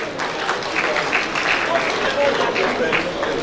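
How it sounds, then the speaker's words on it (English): Audience at an inauguration of the Abuja Chamber of Commerce president applauding, a sustained dense patter of many hands filling the room at moderate loudness, with voices mixed in. "let's clap for him once again"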